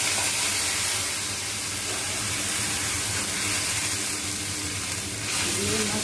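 Ground spice paste of cumin, ginger, garlic and onion with water, turmeric and salt sautéing and bubbling steadily in a pan, a continuous soft sizzle with occasional stirring, close and moderately loud, no talking.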